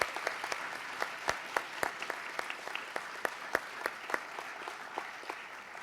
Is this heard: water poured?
no